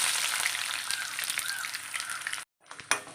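Chopped shallots and fenugreek seeds frying in hot oil for a Vishu mango curry, a loud, close, continuous crackling sizzle that cuts out briefly near the end and then resumes.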